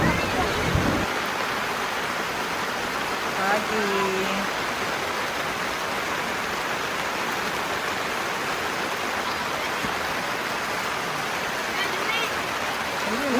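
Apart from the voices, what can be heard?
heavy rain at Taytay Falls camp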